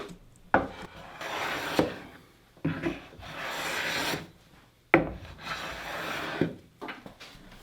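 A hand plane works along a wooden board on a low workbench, giving three long rasping strokes with short quiet gaps between them, close and fairly loud with no talking.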